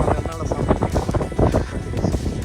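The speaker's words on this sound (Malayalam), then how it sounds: "പക്ഷേ കാറ്റ് ഭയങ്കരമായിട്ട് കാണിക്കുന്നുണ്ട്" Strong wind buffets the microphone on the hill trail to the Old Man of Storr on the Isle of Skye, a gusty rumble running under a person talking.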